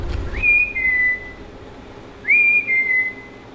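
Two short whistled phrases, each a quick rising slide into a held high note that then steps down, separated by a pause of over a second, clear and fairly close in a quiet room.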